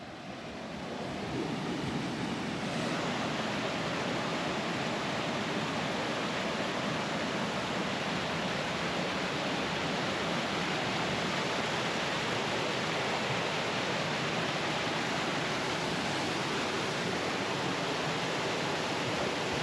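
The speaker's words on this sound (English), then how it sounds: "Found ourselves a nice little waterfall." Small mountain waterfall on Helvellyn, a steady, loud, close rushing roar that fills the whole stretch without letting up, with no voices over it.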